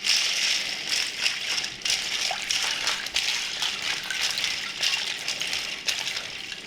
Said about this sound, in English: I'm going to go ahead and shock them in an ice bath